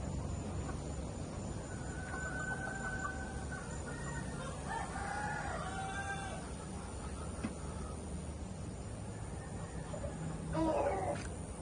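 A Raptor Sweater rooster crows once at moderate distance in a pen, followed later by a brief louder squawk, over constant farmyard background noise.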